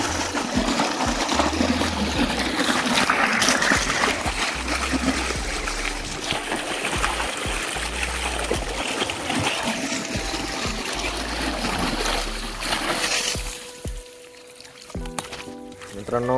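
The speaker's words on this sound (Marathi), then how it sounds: "मित्रांनो चला आता सोडले आपण इकडच्या साईडला पाणी." Irrigation water pours from a pipe into a tomato field, a steady broad rush and splash that stays loud throughout, with someone talking over it and the flow easing slightly near the end.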